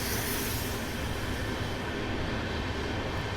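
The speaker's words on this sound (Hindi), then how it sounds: "ये है ट्रेन नंबर 20626 भगत की कोठी चेन्नई सेंट्रल एक्सप्रेस, और इसको ओवरटेक किया हमने यहाँ पे" Bhagat Ki Kothi–Chennai Central Express, train 20626, rumbling steadily alongside as it is overtaken, a continuous loud wash of wheels and carriage noise with no break and no voices.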